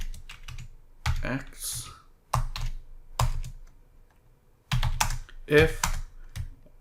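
Computer keyboard typing code in clustered bursts of keystrokes separated by short pauses, close and fairly loud, with someone speaking briefly between the bursts.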